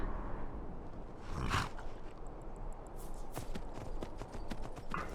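Horse hooves clip-clop at a steady riding pace in the Skyrim video game, moderately near and without talk.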